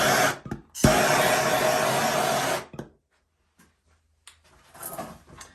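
A heat gun blows with a steady, loud rush for about two seconds over bubbles in green epoxy poured into a wooden inlay, then cuts off, leaving quiet light handling noises.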